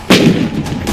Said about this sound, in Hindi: God of war artillery regiment की ये गरज जरा आप भी सुनिए